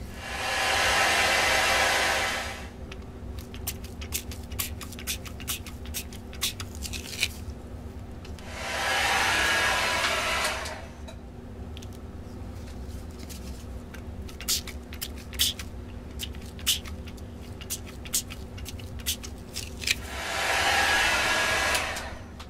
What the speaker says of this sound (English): Gonna hit that with the heat gun and see what happens.